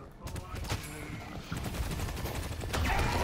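Gunfire from a Vindictor in the game Deadlock, a dense, continuous spray of rapid shots over a few seconds, layered under game action and a player's speech.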